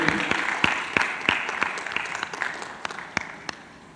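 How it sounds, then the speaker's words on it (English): An audience at a professional association ceremony gives scattered, sharp claps in an irregular rhythm that thins and fades over a few seconds. "big round of applause for Nirmal Frederick."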